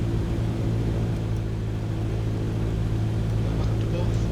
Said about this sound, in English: we're going to do power checks. Now at 300 RPM, we have to quickly test the magnetos